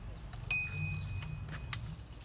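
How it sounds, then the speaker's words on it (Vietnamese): A child rings a bicycle bell outdoors once with a sharp, bright metallic ding that rings on briefly, followed by a couple of faint ticks and soft background noise. "Con bấm chuông thế nào?"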